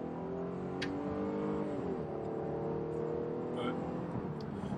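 A 2021 Jeep Grand Cherokee 80th Anniversary edition cruising on a highway, heard from inside the cabin as a steady, continuous engine and road drone with a slight rise in pitch.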